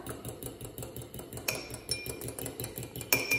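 A broken egg is stirred in a container, a brisk, regular series of close utensil taps and scrapes against the side, with a brighter clink near the end.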